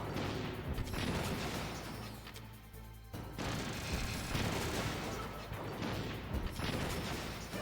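Metal Gear Rex's machine gun in Metal Gear Solid, rattling out in heavy bursts with booming impacts and mechanical clanks, loud and continuous with a brief lull midway.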